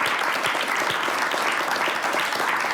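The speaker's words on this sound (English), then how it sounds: "Give yourself a round of applause" Studio audience on a talk show gives a round of applause, continuous close clapping filling the short moment without speech.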